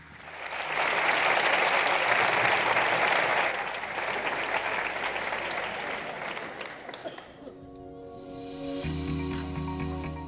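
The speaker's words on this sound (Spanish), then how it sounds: "Un fuerte aplauso para todos vosotros" Loud, sustained applause from a crowd at a municipal sports gala in Mijas, honouring sponsors and parents, fading after about seven seconds into music.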